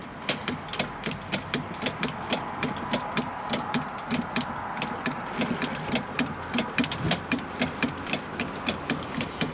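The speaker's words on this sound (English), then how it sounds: "if I just pop that up there, you'll be able to see the bed moving" The garage bed in a Rollerteam T Line 740 motorhome is raised by a motorised mechanism that whirs steadily with a rapid, regular clicking like a ratchet, close and alone throughout.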